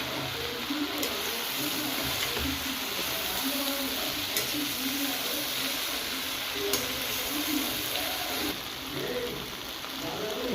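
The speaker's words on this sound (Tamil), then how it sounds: "தூள் உப்பு போட்டு கிளறி விடலாம்" Okra frying in a pan just after powdered salt goes in, with steady close sizzling and occasional scraping stirs throughout, no voices.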